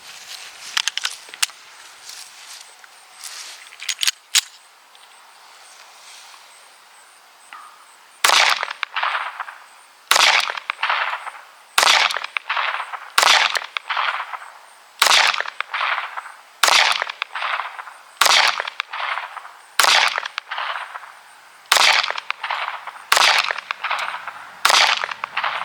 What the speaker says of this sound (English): We have the SAR K2 45C. We got 14 rounds loaded up, 230 grain ball ammo.